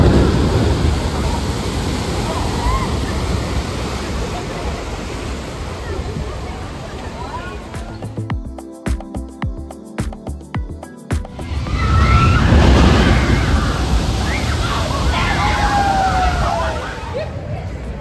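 Water rushing and splashing on a theme park river ride at Universal Orlando, a loud broadband surge with a quieter stretch midway, then a heavier splash burst, with faint voices mixed in.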